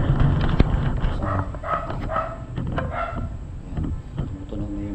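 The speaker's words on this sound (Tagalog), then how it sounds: "yan, tumutunog na yung mga aso guys" Several dogs bark outdoors near an abandoned house, sharp repeated barks at middle distance over a steady background hum and rustle.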